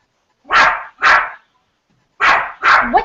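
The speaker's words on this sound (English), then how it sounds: "I need a break from this dog." A dog lets out four sharp, loud barks close by, two in quick succession, a short pause, then two more, with a faint whimper at the end.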